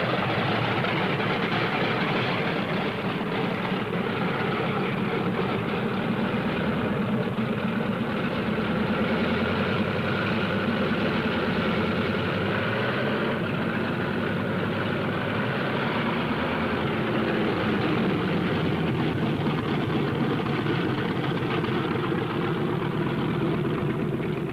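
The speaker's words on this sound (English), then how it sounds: "On the field, planes warm up." Several single-engine P-47 Thunderbolt fighters warm up their radial engines on a World War II Eighth Air Force airfield, a steady broad droning rumble that holds evenly throughout with no voices.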